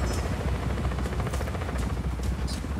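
Helicopter in the video game Just Cause 4, a loud, continuous rotor thrum with a rapid pulsing beat and a few sharp high bursts on top, no speech.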